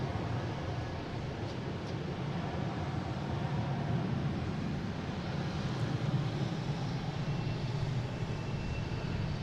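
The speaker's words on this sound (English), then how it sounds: "we have PAL Airlines heading to Halifax" A PAL Airlines Dash 8 turboprop airliner heading for Halifax rumbles at Boston Logan Airport, a steady moderate engine drone with a broad airy wash, distant and continuous with no voices.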